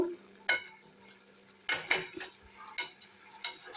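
A spoon scrapes and clinks against a metal pot as cooked snail curry is scooped out into a dish, several sharp separate scrapes spread across a few seconds at close range.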